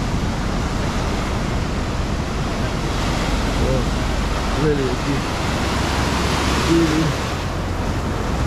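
Ocean surf washing steadily on the San Diego shore, a continuous broad roar of waves with wind noise on the microphone and faint voices in the background.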